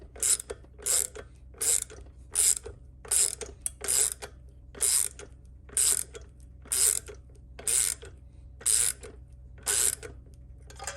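A valve spring compressor is tightened on an LS cylinder head with lightweight hollow-stem valves, producing a close, loud ratcheting in about a dozen evenly spaced bursts over a low steady hum.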